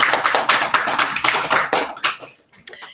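A school assembly audience claps for a pupil's achievement, a dense burst of many hands close by that thins out and stops near the end, with a couple of stray claps after a pause.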